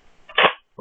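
A Nerf Retaliator toy blaster fires once, a single sharp snapping pop after a faint rattle, followed by a short softer click.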